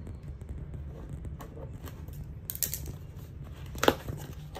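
A stiff, hard-to-open package of nail supplies being worked at: soft rustling and crinkling plastic with a few sharp snaps and tearing bursts close to the microphone, no speech.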